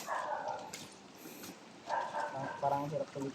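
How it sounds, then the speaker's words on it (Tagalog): A dog barks a few times at a gemstone-strewn outdoor site, moderately near but not loud, among rustling outdoor ambience with short pauses between the calls. "Merong aso."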